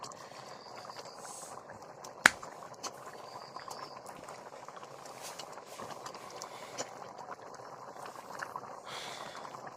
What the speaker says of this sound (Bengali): আমাদের ঝোলটা ফুটে গেছে, এখন আমরা ভেজে রাখা মাছগুলো দিয়ে দিচ্ছি